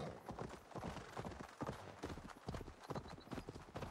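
Rapid clip-clop of horse hooves on a hard surface, quick and steady, fairly faint, in the video game Assassin's Creed Valhalla.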